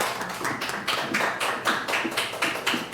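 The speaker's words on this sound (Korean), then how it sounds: "우리 목사님 나오실 때 박수로 환영하도록 하겠습니다." A church congregation claps steadily in a fairly close room at a Sunday service, the applause rising and falling slightly over a few seconds with no voices.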